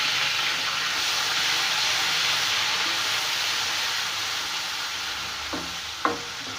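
Garlic ginger paste sizzles loudly in hot oil with golden fried onions for keema karela, a steady close frying hiss that stays even throughout, with a couple of faint clinks near the end.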